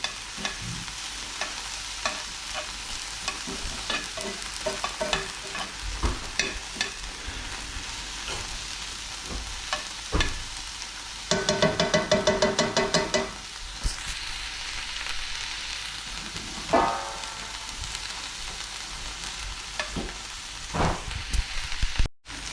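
Onions frying in a single pan for a Mediterranean chicken and rice dish, a steady sizzle broken by repeated scraping stirs, with a denser burst of scraping midway; close and continuous, no talking.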